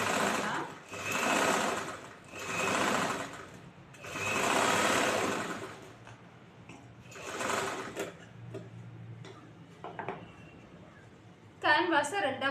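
Sewing machine stitching a chudithar in bursts of steady whirring, several runs separated by pauses, close and loud, with someone speaking between the runs and small handling clicks near the end.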